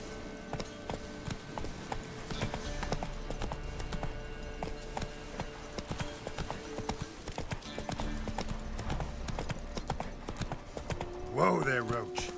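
Roach, a horse in The Witcher 3, gallops with a steady, close clip-clop of hooves across the whole stretch, a brief whinny rising near the end, while someone talks briefly over it.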